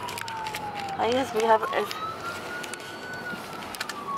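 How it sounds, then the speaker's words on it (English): A very small ambulance on a crowded street sounds its siren, a steady wailing tone that runs the whole time and sweeps up and down, while people nearby talk over it. "this ambulance needs to come out"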